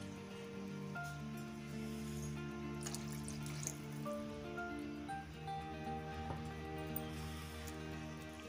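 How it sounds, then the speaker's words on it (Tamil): Steady water pouring and splashing into a pan, a continuous rushing sound with faint clinks, no talking. "உங்களுக்கு எவ்வளோ தண்ணி வேணுமோ அதுக்கு தகுந்த போல் நீங்கள் தண்ணி விட்டுக்குங்க."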